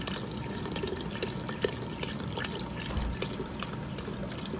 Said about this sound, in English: I'm going to add my second container of vegetable broth.